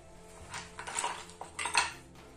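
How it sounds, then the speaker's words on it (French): A small knife is picked up from a hard surface during a painting session, giving a few light metallic clinks and taps, soft and close, with a couple of brighter clatters near the end and no talking. "Je prends mon petit couteau"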